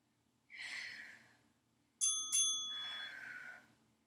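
A bicycle-style bell rings with two quick bright strikes close to the mic, framed by breathy exhalations before and after.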